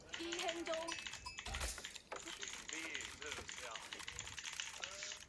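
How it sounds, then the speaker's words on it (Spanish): Rapid clicking of many computer keyboard keys being pressed during an Age of Empires IV game, dense and busy throughout, with a voice and game sounds mixed in. "¿Por qué apretas tantas teclas?"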